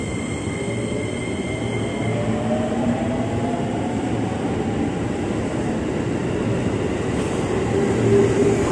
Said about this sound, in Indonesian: KRL jalur 3 akhirnya berangkat.